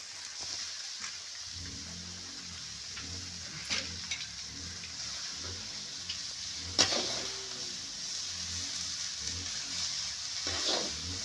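Chopped cabbage-stalk onion fries in a pan over a wood fire turned to low flame, a soft crackling sizzle with scattered sharp pops and occasional stirring knocks, fairly quiet and steady throughout.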